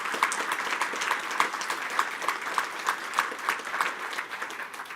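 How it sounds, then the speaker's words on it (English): An audience at an HIV prevention conference in England applauds steadily for several seconds, a dense, even clapping from a fairly large indoor crowd heard from some distance, with no talking over it. "Give him a round of applause."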